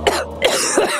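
A cartoon character coughs three times in quick succession, close and clear, with no other sound around it.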